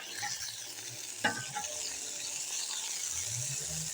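Onion and carrot fry in a pan with a moderate, even sizzle, marked by one sharp clatter of a utensil and a few lighter stirring scrapes.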